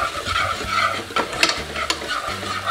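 Tomatoes cook in a pan for a sardine and tomato sauce dish, with a steady close sizzle and short scraping stirs over a background hum, and no voices.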